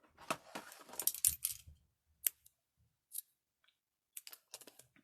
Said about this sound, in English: Every single time I sit my scissors down.